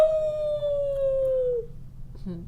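A dog gives one long, clear howl that slowly falls in pitch before it stops, heard close up, and a brief voice follows.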